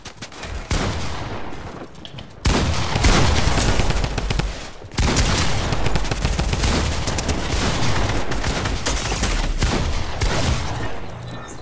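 Rapid, dense gunfire from a video game shooter, loud and continuous with bursts layered tightly over one another and brief dips between volleys, no talk heard.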